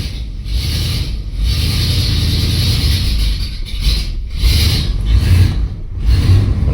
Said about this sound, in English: Oh man, those brakes are sticking hard.